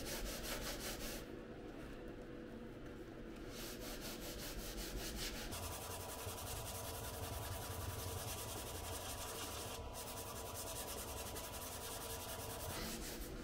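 Car body panel hand sanded with 120-grit paper on a long block during paint prep, a continuous close abrasive rubbing that runs steadily throughout with no talk.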